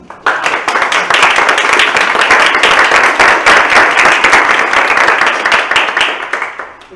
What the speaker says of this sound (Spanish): el aplauso fue de carne y hueso, acá en la audiencia de carne